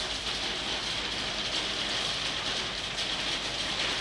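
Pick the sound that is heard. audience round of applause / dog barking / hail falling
hail falling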